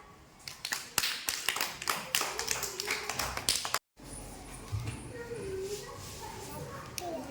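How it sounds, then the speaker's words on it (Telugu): A group of children clap together in a classroom, a run of sharp, uneven claps for about four seconds, then a short break followed by background chatter and murmuring voices. "క్లాప్స్"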